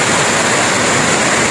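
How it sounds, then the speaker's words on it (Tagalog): A flooding river running high beside a road, its water rushing in a dense, steady roar that fills the whole moment at close range with no voices. "nakita nyo yan, ilog. Ang ilog namin sa likod dito"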